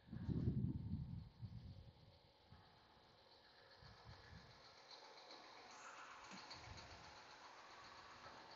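A John Deere 8530 tractor engine idles at a steady low rumble while the machine is readied for loading, with loud low bursts at the start and a bird calling faintly in the background.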